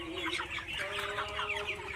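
Chickens on a raised-floor farm cluck and chatter continuously in a dense, nearby flock, with an underlying steady machine drone.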